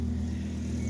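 A 2009 Volvo C30 idles with its engine running, a steady low hum and drone heard close and alone for a brief moment.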